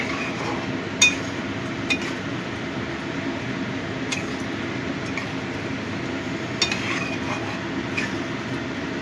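A spoon stirs butter garlic chicken in a pan, giving a few soft clinks spaced over a steady low background hiss.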